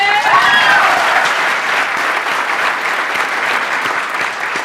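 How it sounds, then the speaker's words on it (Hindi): Loud, close applause from an audience, a thick, continuous wash of clapping that holds nearly level throughout, easing only slightly toward the end. "इन लोगों के लिए जोरदार तालियां।"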